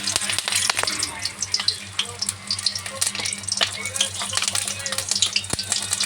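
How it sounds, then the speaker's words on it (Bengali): Nigella seeds and green chillies sizzle loudly in hot oil in a kadai, a continuous close frying hiss with scattered spits and pops under a low background hum. "এখানে আমি কড়াই তেল, কালো জিরে ফোড়ন দিয়েছি"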